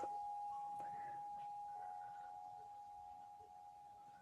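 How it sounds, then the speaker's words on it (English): A single sustained metallic chime tone rings softly and slowly fades, with a few faint higher tinkles over quiet background hiss. "Listen to the wind chimes."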